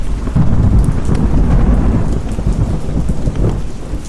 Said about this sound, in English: I hope the rain lets up soon